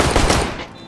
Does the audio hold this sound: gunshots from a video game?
yes